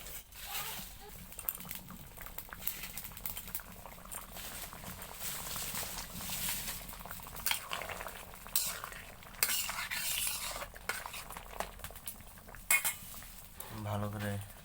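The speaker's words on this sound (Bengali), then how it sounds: "তো আমাদের এখন কিন্তু দিয়ে দেওয়া হচ্ছে সয়াবিন গোটাগুলি তরকারিতে।" Soybean chunks being stirred into a bottle gourd curry in a pan, a utensil scraping and clinking against the metal in steady repeated strokes with a faint sizzle underneath, close and moderately loud.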